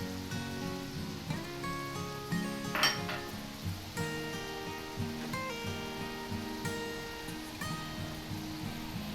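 Gram flour (besan) is dry-roasted in a pan for Punjabi kadhi, with a faint sizzle and repeated light clinks and scrapes of a utensil against the metal over a steady background.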